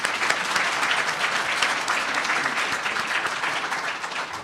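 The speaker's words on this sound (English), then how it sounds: "Can we give them a quick round of applause?" Steady, dense audience applause for panelists at a health leadership event, continuous and fairly loud throughout with no talk over it.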